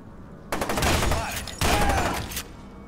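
A pump-action shotgun in F.E.A.R. fires two loud, close blasts about a second apart, each a sustained crackling burst with clattering echoes.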